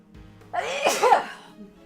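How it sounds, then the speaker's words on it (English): A single loud, close sneeze with a sharp inhale before the burst, alone without talk. "Hope you all enjoyed that dad sneeze."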